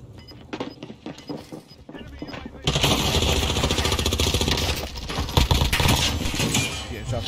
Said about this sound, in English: Getting shot from the other direction.